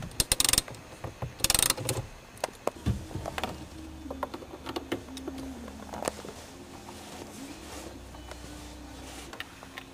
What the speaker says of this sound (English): After you get that last Torx screw out, you just pull these apart.